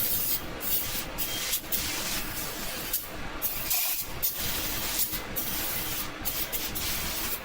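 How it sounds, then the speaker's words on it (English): Brake cleaner is sprayed onto Subaru Legacy rear brake parts in a run of short hissing bursts with brief gaps between them, close by and fairly quiet, with no talking. "I use brake clean."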